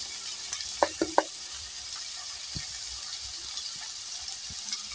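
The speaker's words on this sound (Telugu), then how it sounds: "ఉల్లిపాయ ముక్కలు, రొయ్యలు కూడా చక్కగా వేగిపోయింది." Onion pieces and prawns fry in a pan for a curry, giving a steady soft sizzle throughout, with a few brief stirring clinks and scrapes near the start.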